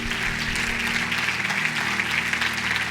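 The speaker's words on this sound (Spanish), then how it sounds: "Dale un aplauso fuerte al Señor." Church congregation clapping together in worship, a dense, continuous patter of many hands heard from within the room, fairly even and sustained for a few seconds.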